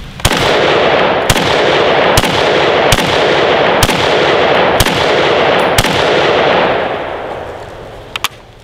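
Rifle fire into body armor on a shooting range: a steady string of sharp, loud shots roughly every second against a dense roar, fading out at the end with two final cracks.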